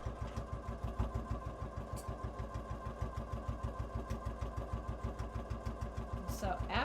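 A sewing machine stitches binding onto a cross body bag, its rapid, even mechanical thumping repeating close and steady, with a voice talking over it.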